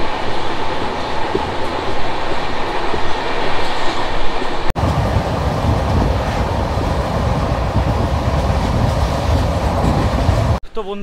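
Barbil Jan Shatabdi Express 12021 running on rails between Howrah and Ghatsila, a loud, steady rolling rumble with rattling carriages that holds for the whole stretch, broken by one brief dip midway and a shift in tone right at the end.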